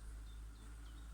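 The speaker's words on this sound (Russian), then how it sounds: "Да, тут, наверное, собрались все шмели с окрестностей." Bumblebees and honeybees swarm two large blooming acacia trees in a Belarus village, their faint dense buzzing forming a continuous hum with a few individual insects passing closer.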